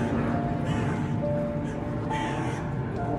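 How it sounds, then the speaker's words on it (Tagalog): Crow cawing near a cremation chapel and cemetery in Rome on All Saints Day, harsh calls rising over steady outdoor background noise with faint murmuring voices. "Kakatakot naman yung tunog ng uwak."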